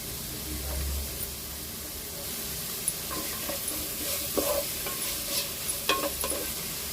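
Chopped onions sauté in a pan with a spoonful of salt for a chicken lollipop biryani, giving a soft, steady hiss with light scraping and stirring strokes, fairly quiet and close.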